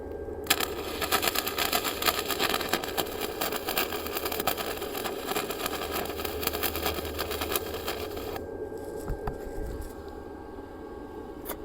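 A Harbor Freight 3-in-1 welder lays small weld beads with a dense, steady crackling buzz over a low hum, running continuously for most of the span before cutting off near the end.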